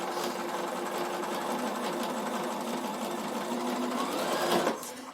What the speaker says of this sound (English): I'm just going to top stitch this down.